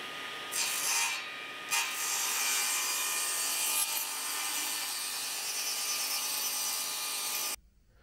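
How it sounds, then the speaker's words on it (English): Saw ripping a 14-foot length of clear pine at a 16-degree bevel, a continuous steady cutting whine as the board is pushed through, ending abruptly. "now I'm just going to push a 14-foot length through the saw"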